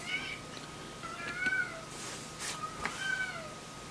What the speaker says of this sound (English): Ignore my cat.